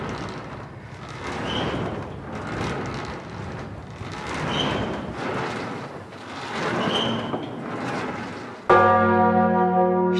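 The deep, heavy bourdon bell of Rodez Cathedral tolls repeatedly in slow, regular strokes, each ringing out and overlapping the next, ending with a sustained humming tone.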